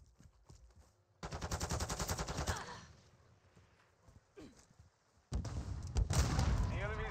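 Two loud bursts of automatic gunfire in a ranked shooter video game match, the first about a second long and the second running to the end, separated by a quieter gap.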